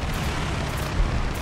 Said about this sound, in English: 2C's just shooting his guns up